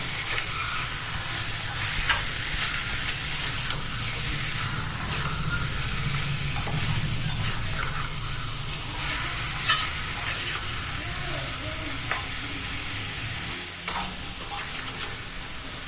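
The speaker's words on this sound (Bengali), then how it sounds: "এবার টমেটো আর চিকেনটাকে বেশ কিছু সময় ধরে কষিয়ে নেব" Tomato and chicken stir-fried in a pan give a steady close sizzle and frying hiss, with stirring scrapes and clinks running throughout; no one talks.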